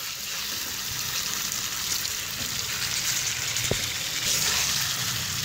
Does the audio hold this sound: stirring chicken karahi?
yes